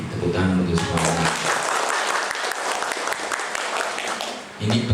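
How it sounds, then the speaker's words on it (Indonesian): People at a health centre accreditation meeting break into sustained, dense applause. It is close and loud, with bits of talk at the start and end. "Tepuk tangan untuk semuanya."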